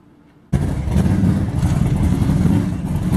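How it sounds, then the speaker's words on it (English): A Mopar 440 cubic inch big block drag car engine bursts into a loud, sustained revving roar after a brief quiet moment, staying close and powerful with a rough, throaty rumble at a drag racing event. "318 Wilson 440 cubic inch big block Mopar under the black hood"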